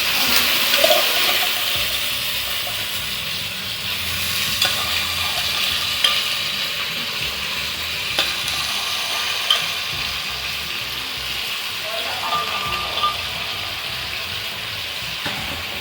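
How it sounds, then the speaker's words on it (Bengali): Mutton pieces, parboiled and drained, fry in a kadai with no added water, giving a steady broadband sizzle that goes on throughout. Occasional scrapes and clinks stand out above it, and no one speaks. "জল দেবো না, এমনি মাংসগুলো দিয়ে দিচ্ছি"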